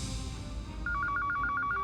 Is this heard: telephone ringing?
yes